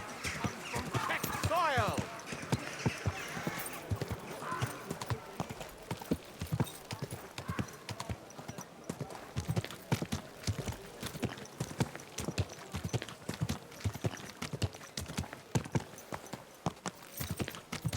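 Horse hooves clip-clop steadily in the medieval game Kingdom Come: Deliverance 2, with a brief whinny near the start. The hoofbeats continue in an even rhythm as voices talk over them.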